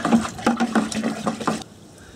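Alum and pickling salt being stirred into warm water for tanning hides, a run of quick sloshing, swirling splashes close by that stops abruptly near the end.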